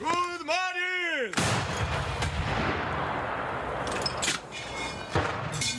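Booming artillery cannon blasts echo with a rolling rumble, several shots in succession, loud and reverberant, with a brief voice-like tone at the start.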